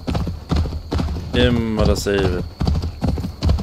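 Steady hoof clip-clop of a horse in Assassin's Creed Valhalla, with someone talking over it and a brief whinny-like call in the middle.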